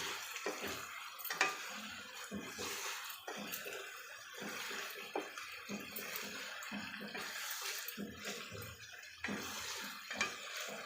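Bagara rice being stirred in a pot, with a spoon scraping and clinking against metal and soft wet mixing, close and fairly quiet, in irregular strokes.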